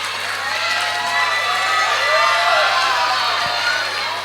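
A crowd applauds and cheers continuously at a school annual day celebration, a broad wash of clapping with scattered shouts throughout.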